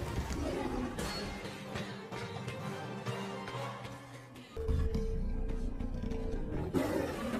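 A tiger roars in a Jurassic World Camp film scene, with repeated loud growling roars over dramatic background sound and a sudden burst partway through.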